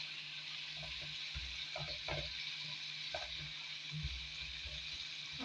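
Beef and potato frying in a pan with a steady sizzle, a low stovetop hum beneath it and occasional soft scraping stirs.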